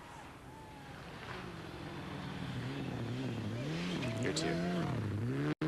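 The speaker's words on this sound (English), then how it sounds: "You can hear him changing the throttle, not the steering angle." Rally car engine rising and falling as the driver works the throttle through a slide on a snowy stage, revs swooping up and down under wind noise, with brief talk over it near the end.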